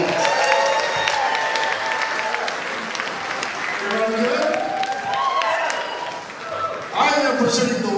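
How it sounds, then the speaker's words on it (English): Steady audience applause at a music awards show, a dense continuous clapping with crowd cheers and whoops rising over it throughout. "Give Phil Mack a big round of applause."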